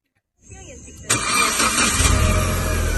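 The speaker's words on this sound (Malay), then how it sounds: "Kita bagi dengar punya enjin dia masih okey lagi." A Proton Saga BLM car engine cranks briefly, catches with a sudden jump in loudness, then settles into a steady, close idle.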